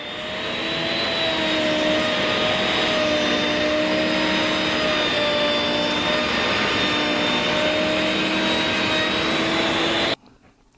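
Wood router cutting a gooseneck pie crust bead, a steady high-pitched motor whine held loud and unbroken for about ten seconds before cutting off abruptly, close up with no speech.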